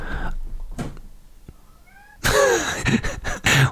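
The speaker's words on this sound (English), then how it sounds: "now he's screeching at me from down the hall" A house cat screeches from down the hall, with a faint meow early on, then loud, drawn-out yowling cries in repeated bursts near the end.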